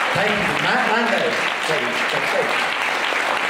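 Dense audience applause at an opening ceremony, loud and continuous clapping from a crowd for several seconds, with voices mixed in underneath.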